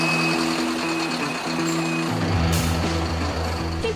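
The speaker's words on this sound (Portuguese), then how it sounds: "Quem precisa se locomover pela cidade de ônibus já até se acostumou com o barulho dele, do motor" A city bus engine drones loudly and steadily up close, its low rumble shifting pitch as the motor works, with no voices over it.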